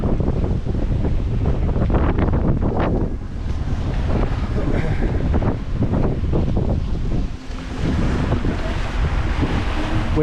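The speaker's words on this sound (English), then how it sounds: "Waves are getting pretty big today." Large ocean waves and strong wind batter a 26 ft sailboat sailing solo toward Hawaii, a loud, continuous roar of surf and wind buffeting the microphone, with rushing swells rising and falling throughout.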